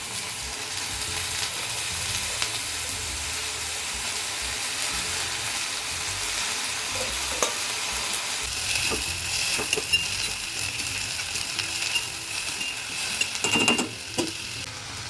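Drumstick leaves sizzle and hiss steadily in a hot wok, with occasional clinks and scrapes of a spoon stirring near the end.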